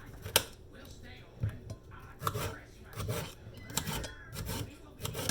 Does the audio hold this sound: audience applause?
no